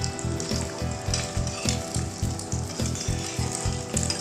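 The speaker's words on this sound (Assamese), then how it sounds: "যিখিনি কণী মই উঠাই ৰাখিছিলোঁ বাতিৰ পৰা, এইখিনি অকণমান ফ্ৰাই কৰি ল'ম" Boiled eggs fry in hot oil on a flat pan, an even crackling sizzle close by, with a regular rhythmic thumping underneath throughout.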